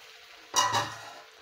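Boiled fenugreek leaves and peas dropped into cooked masala in hot oil, a sudden loud burst of sizzling that rises sharply and then slowly fades to a steady hiss, close and with no voices.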